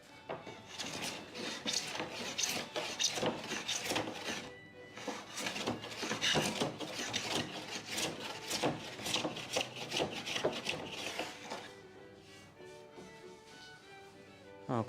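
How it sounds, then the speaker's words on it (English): Hand plane shaving wood against the grain on an old door under restoration, a repeated close rasping and scraping in quick strokes that fades to quieter scrapes near the end. "So in here I am planing against the grain."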